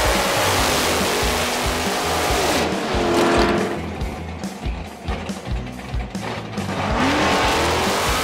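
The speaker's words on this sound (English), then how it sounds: "We're gonna unleash 588 cubic inches of big block Chevy the proper way." A 1962 Chevy Nova with a 588 cubic inch big block Chevy makes a drag strip pass, a loud, continuous close engine roar with rising revs and tire squeal, no talk.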